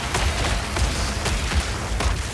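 Rapid, dense explosions from a Detonate Dead game build, a loud continuous barrage of overlapping booms with no pauses and no voices.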